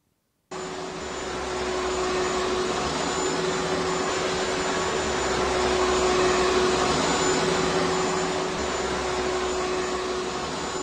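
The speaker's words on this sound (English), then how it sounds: "a Roomba with a sombrero" A Roomba robot vacuum wearing a sombrero runs with a steady, loud whirring motor hum that starts abruptly and holds constant and close throughout, with no voices.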